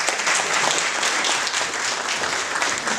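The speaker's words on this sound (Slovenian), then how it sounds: "En aplavz prosim." Dense, steady clapping from an audience at a Ljubljana Interact club charter ceremony, loud and continuous for the whole stretch with no voices standing out.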